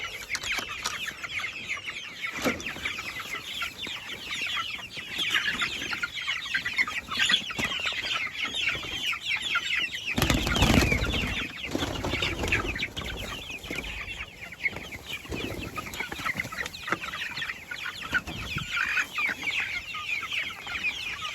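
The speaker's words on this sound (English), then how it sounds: "Time to get attacked by chickens." Chickens cluck steadily all around on a farm, a busy flock clucking and squawking close by with a brief louder burst midway.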